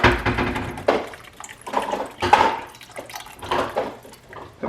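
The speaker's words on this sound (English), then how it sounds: "Turn that upside down and pour it." Chicken broth pours from an upturned carton into a pot, an irregular splashing and gurgling of liquid that comes in close, uneven surges for several seconds.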